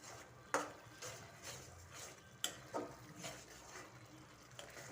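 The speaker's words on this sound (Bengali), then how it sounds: "নাড়াচাড়া করে দিচ্ছি।" Food being stirred in a cooking pot gives quiet scraping swishes and a few sharp clinks of a utensil against the metal, spaced irregularly over a soft background hiss.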